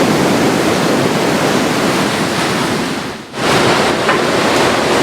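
Loud ocean surf crashing onto an Outer Banks beach, a dense continuous roar close by with a brief dip before it surges back, mixed with wind rumble, no talking.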